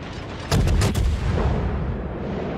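Naval artillery from a tier 8 Cleveland cruiser in World of Warships booms out in several loud, close salvos in quick succession, followed by a lingering rumble.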